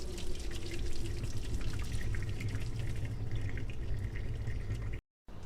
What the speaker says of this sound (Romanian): Acum îi vom lua și îi vom scurge de apă.